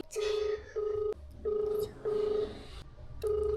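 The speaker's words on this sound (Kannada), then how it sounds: "ಇವಾಗ ಫಸ್ಟ್ ಅವ್ರಿಗೆ ಫೋನ್ ಮಾಡೋಣ ಎಲ್ಲಿದ್ದಾರೆ ಅಂತ ಕೇಳ್ತೀನಿ" A phone dialling a call gives a run of five clear electronic tones, each about half a second long, separated by short gaps. The room is otherwise quiet and nobody speaks.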